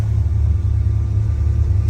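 A 1955 Chevrolet Bel Air street rod with a 350 V8 and four-speed manual idles smoothly, a deep, loud, steady close-up rumble with no voices.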